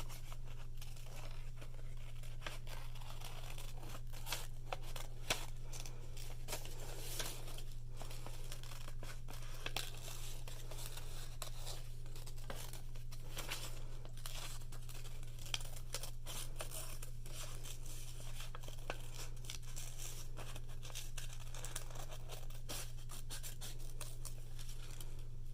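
Paper being cut with scissors to free a pink Africa continent shape for a craft lesson, giving steady soft snips and crinkles close by over a constant low hum, with no talking.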